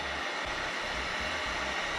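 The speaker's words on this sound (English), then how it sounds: "And then you hit it with a heat gun." A Wagner heat gun used to melt a solder slug on aircraft wiring blows a constant close whooshing roar, with a low fluttering rumble pulsing underneath, and no talk.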